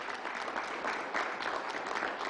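An audience at a New York COVID briefing breaks into steady, dense applause, a close wash of clapping hands that runs evenly throughout without any voices over it.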